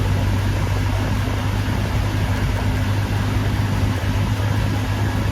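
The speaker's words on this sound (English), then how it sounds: "you can hear the sound. The AC is very strong." The air conditioning of an accident-damaged car runs strongly with a steady, loud blowing hum and a low engine drone underneath, unbroken throughout and with no talking.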